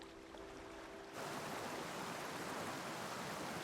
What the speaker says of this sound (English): But moving water is the only constant in the park's soundscape.